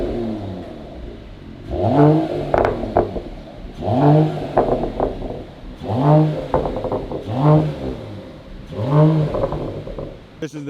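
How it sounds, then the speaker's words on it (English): A Mercedes-AMG GT 43 with its exhaust resonator deleted revs loudly and close up, five sharp throttle blips rising and falling at a steady interval, with idle burble between them. "give you guys a couple revs"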